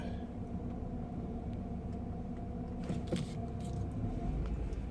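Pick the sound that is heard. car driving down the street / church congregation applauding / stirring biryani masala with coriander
car driving down the street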